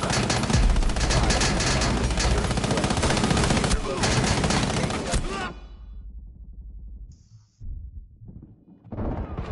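Sustained, loud automatic gunfire from a tactical shooter video game rattles densely for about five seconds, then cuts to a quieter stretch with scattered electronic tones and a final burst of game noise.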